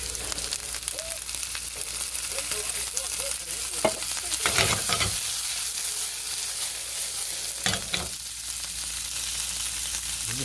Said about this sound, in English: I'm just sauteing a little bit of olive oil.